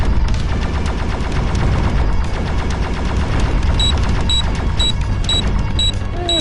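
Missile barrage in the End Space VR space shooter: a dense, continuous rapid-fire rattle of launches at steady loudness, joined near the end by a repeating high beeping alert.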